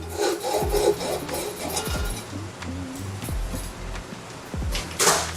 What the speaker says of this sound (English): Now we're going to use an all-purpose hacksaw to go ahead and cut off those built-in spacers.